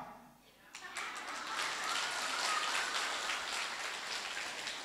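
An audience breaks into sustained applause at a Buddhist dharma talk, the many-handed clapping rising suddenly from quiet and continuing loud and steady, with no voices over it.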